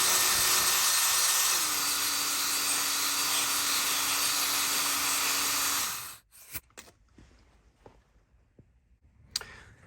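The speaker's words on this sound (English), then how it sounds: "I decided to just take a strip of 320 sandpaper and wrap it in there and use the hone to press that against it" An engine cylinder hone wrapped in 320-grit sandpaper spins inside an LS3 bore with a loud, steady high whine that drops slightly in pitch, then cuts off after about six seconds, leaving faint clicks and taps.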